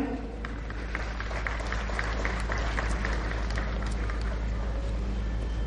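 Steady applause from a crowd at a Republic Day ceremony in Mumbai, dense clapping that stays fairly even throughout, with no talking over it.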